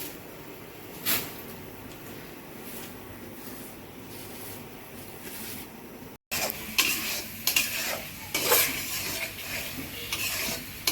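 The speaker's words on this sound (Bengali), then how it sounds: "মশলা কষাইতেছি এনে হচ্ছে তেল গরম করছি তেল গরম করে একটু জিরা ফোড়ন দিছি তারপর একটু রসুন দিছি তেজপাতা দিছি" Cumin seeds, garlic and bay leaf fry in hot oil while spices are stirred in a pan, giving a soft steady sizzle with occasional scraping clinks, growing louder and busier in the second half.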